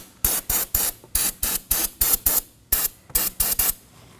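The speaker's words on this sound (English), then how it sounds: "I'm going to clean the surrounding area with some brake cleaner and a rag" Brake cleaner sprays from a can around the brake fluid reservoir of a 2015-2023 Nissan Maxima, a dozen short, sharp, close hissing bursts in quick uneven rhythm.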